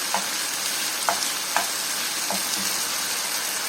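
Chicken frying in a pan for fajita pasta, a loud steady sizzle with a few light utensil taps and scrapes spaced through it, no talking.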